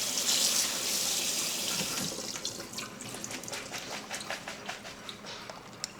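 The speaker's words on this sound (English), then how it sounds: "we're going to rinse off the leather britches a little bit" Water runs from a tap into a sink, a steady splashing rush that softens partway through into gentler trickling and swishing as dried green beans are rinsed.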